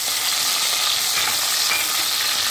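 Chopped onions sizzle and fry in two tablespoons of hot oil in a pan, a steady bright crackling hiss that runs without a break, with faint stirring scrapes now and then.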